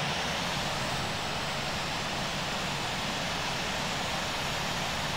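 A CRJ airliner's jet engines in the Infinite Flight game during takeoff roll, a loud, steady, broadband roar that holds constant throughout with no other sounds.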